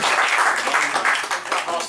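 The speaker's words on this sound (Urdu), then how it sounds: "ذرا تالیاں بجائیے تاکہ یہ ان کا کچھ حوصلہ بڑھے" Audience at a mushaira poetry gathering clapping in a dense, steady burst of applause, fairly loud, with no talk.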